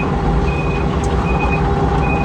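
A Kato excavator's backup alarm repeats a high, evenly spaced beep three times over the loud rumble of the idling machine.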